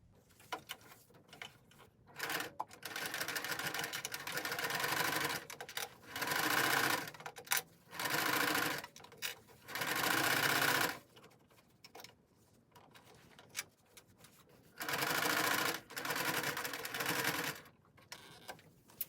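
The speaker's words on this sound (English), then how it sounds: "And then we're going to sew it again on that fold line." A sewing machine stitches layers of fabric along a fold line while making a face mask. Close whirring runs of several seconds each alternate with short quiet pauses, with no talking.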